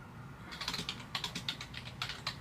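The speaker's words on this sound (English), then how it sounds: "Are you typing to me, or what are we clickety-clacking about?" Quick bursts of computer keyboard typing clack in short irregular clusters, close and fairly quiet over a low background hum, with no talking.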